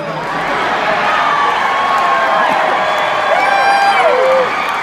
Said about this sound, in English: That always gets a big cheer